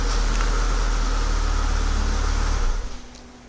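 A Ford vehicle's engine idles after a remote start, a steady low rumble with a faint fan whir that suddenly drops away and cuts off near the end.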